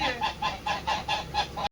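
A goose honks in a steady series of about eight loud, evenly spaced calls, close by with no talking over them, ending abruptly.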